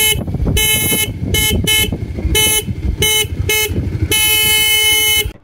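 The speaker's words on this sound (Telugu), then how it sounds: "ఫ్రంట్ లో సింగిల్ హార్న్ ఉంది. సింగిల్ అయినా సరే లౌడ్ గానే ఉంది" Single front horn of a new Bajaj Pulsar 125 Carbon Edition motorcycle gives loud, close honks: several short toots, then one longer sustained blast, with a steady engine rumble underneath.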